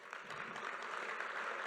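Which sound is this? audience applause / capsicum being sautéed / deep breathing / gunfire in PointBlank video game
audience applause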